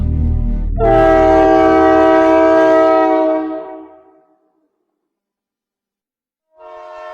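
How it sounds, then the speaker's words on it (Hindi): A train horn sounds loudly for about three seconds over a low rumbling run, fades out into silence, then a second horn blast begins near the end. "अंदर ट्रेन के पहियों का कभी ना रुकने वाला शोर"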